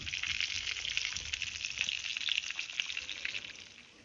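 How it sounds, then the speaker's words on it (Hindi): Fish pieces fry in hot oil in a pan, giving a steady, close hiss and crackle that runs unbroken throughout, with no voices over it. "और यहाँ हमारी जो वो फ़िश है वो फ्राई हो रही है"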